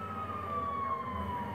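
Ambulance siren in GTA 5, a single steady wailing tone sliding slowly downward, fairly close and loud over a low rumble, with no voices.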